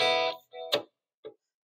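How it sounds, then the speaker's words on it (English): A guitar played through a 2-in-1 reverb and delay pedal gives a short burst of sustained notes, then a few brief plucks that fade out quickly, close and alone. "I'm going to also add just a touch of delay on that with that reverb"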